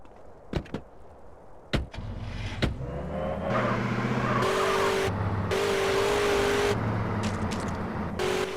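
A car in GTA San Andreas is heard from a first-person view: a few door thumps and clicks, then the engine roars loudly and steadily, revving and shifting with tire squeals as it drives off.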